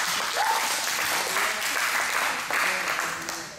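A church congregation claps in a dense, sustained round of applause that stays loud throughout, with a faint voice briefly audible early on.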